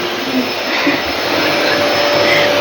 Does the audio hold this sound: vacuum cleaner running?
yes